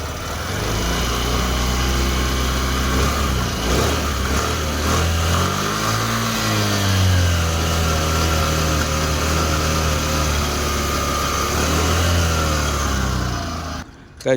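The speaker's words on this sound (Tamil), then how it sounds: "இப்போ இந்த வண்டியோடைய எக்ஸாஸ்ட் நோட் எப்படி இருக்குது அப்படின்னு கேட்டுடலாமா?" A Suzuki Access 125 scooter engine idles and revs steadily nearby, a continuous buzzing exhaust note that rises and falls slightly over several seconds.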